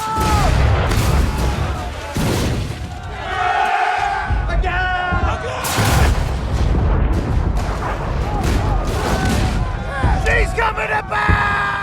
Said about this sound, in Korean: 대포를 발사합니다.